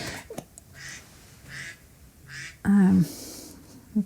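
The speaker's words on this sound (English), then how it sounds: "So there's quacking behind me. Yeah, it's my phone." A phone plays a duck-quack ringtone with several short quacks in a steady rhythm, set in the background behind a speaking voice, ending in one louder, harsher quack.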